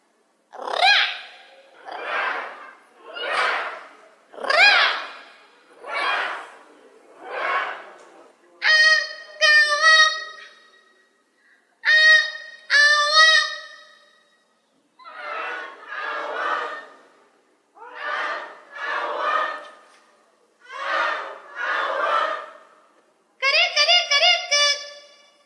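A live concert audience imitates birds, with repeated loud bursts of whistling, trilling and chirping voices rising and falling in waves, some higher pure whistles among breathier calls, for about twenty-five seconds.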